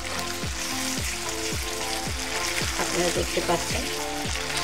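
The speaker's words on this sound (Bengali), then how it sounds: "মশলাটা ভাজা ভাজা হয়ে গেছে এবং তেলটাও উপরে উঠে এসছে।" Spice paste and oil sizzle steadily in a pan while beef is being cooked with beetroot, a loud close frying hiss with regular stirring scrapes, as someone speaks briefly over it.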